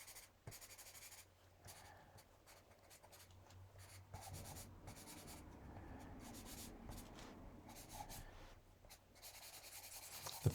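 Pastel pencil drawing on paper for a birch-tree landscape scene: soft, close, continuous scratchy strokes and rubbing, quiet and alone, with short pauses between passes.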